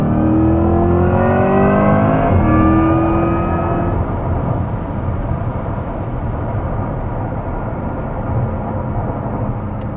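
An all-wheel-drive Acura NSX launched at full throttle, engine roaring loud and close with rising pitch, then settling into a steady rushing drone as it pulls away.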